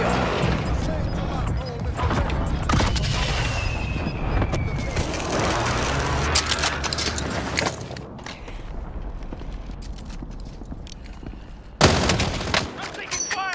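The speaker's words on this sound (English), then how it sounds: "I'm taking fire." Video game gunfire in a tower block battle, bursts of rifle shots and automatic fire, some near and loud, some more distant, with a few pauses and muffled booms between them.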